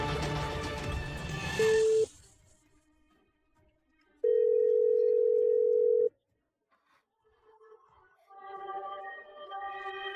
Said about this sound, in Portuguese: Vou ligar pro Ricardo agora e perguntar